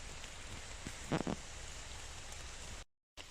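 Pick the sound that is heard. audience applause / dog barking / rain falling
rain falling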